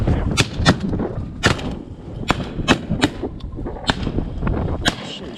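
Sharp gunshots ring out during a duck hunt in strong wind, about a dozen loud cracks at irregular intervals over a steady roar of gusting air, with no talk.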